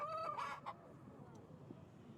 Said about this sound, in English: Magical rooster, okay.